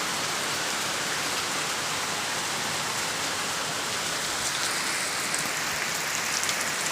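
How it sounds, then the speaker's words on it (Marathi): Steady, dense rain pours down during the monsoon, hissing evenly on surfaces around a house with trees nearby, continuous and close with no voices. "किती छान पाऊस"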